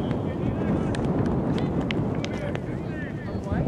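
Strong wind roars steadily across the microphone outdoors at a women's sports match, a dense continuous rush with faint voices and scattered clicks underneath.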